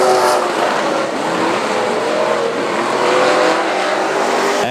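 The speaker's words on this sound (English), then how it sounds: "Matt Fox, far and away, the fastest car on the racetrack at this point." Late model race cars roar steadily around South Texas Speedway on the final laps of a race, a continuous loud engine drone with rising and falling pitch as the cars pass, with no voices over it.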